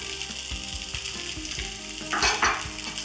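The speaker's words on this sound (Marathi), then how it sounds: "आणि आता घालूयात साबुदाणा, भाजलेला शेंगदाण्याचा कूट," Sabudana, roasted peanut powder and potatoes frying in a pan for sabudana khichdi, a steady close sizzle with repeated soft spoon stirring knocks and a brief louder scrape near the end.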